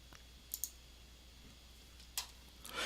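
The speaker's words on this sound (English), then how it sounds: "I'm going to right click and paste" A computer mouse right-click, heard as a few faint, sharp clicks spaced apart in a quiet room, with another cluster of clicks near the end.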